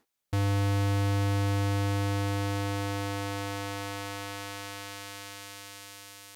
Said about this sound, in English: Now watch as we sweep the high-pass filter from a low cutoff frequency to a high cutoff frequency.